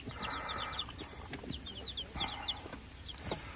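Backyard chickens cluck steadily throughout, with a mix of soft clucks and higher chirps from several birds close by, over a constant outdoor background hiss.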